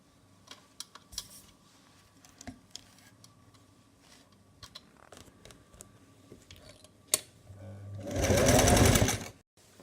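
Sewing machine stitching the folded half-inch hem of a two-layer long party dress, with a brief loud whir of the motor near the end after soft handling clicks and rustles.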